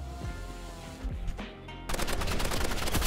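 Rapid automatic assault rifle fire in the Roblox game Rivals, a dense continuous burst of shots that grows louder and steadier in the second half, with game effects mixed in.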